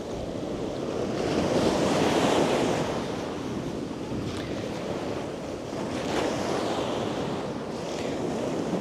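Winter sea waves breaking on Langeron beach in Odesa, a continuous roar of surf swelling and easing, with gusty wind buffeting the microphone throughout and no voices.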